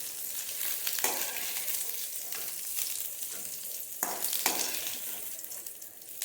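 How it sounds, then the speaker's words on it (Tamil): Greens for mudakkathan keerai thuvaiyal sautéing lightly in a pan, a steady loud sizzle throughout, broken by several scraping stirs of the spatula. "சும்மா லைட்டாக வதக்கிக்கணும்."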